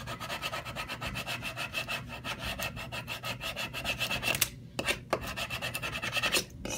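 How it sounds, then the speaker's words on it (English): Transfer tape is scraped firmly onto a plate for etching with a tool, producing close, rhythmic rubbing strokes in quick repeated passes, with a couple of brief pauses between them. "Scrape really well."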